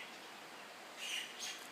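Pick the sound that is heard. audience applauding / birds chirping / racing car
birds chirping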